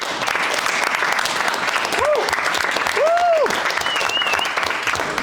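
A high-school classroom audience claps in a dense, continuous burst of applause, loud and close. Brief whoops and voices rise over it.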